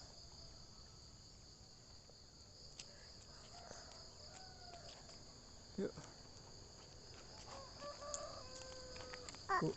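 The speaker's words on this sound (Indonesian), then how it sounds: "Suara jangkrik." Crickets in a village trill steadily and high in the background, joined by a rooster crowing and hens clucking. A brief spoken word and a few soft nearby knocks are also heard.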